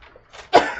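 A single short, explosive cough-like burst, fairly loud and close, preceded by faint breathy noises.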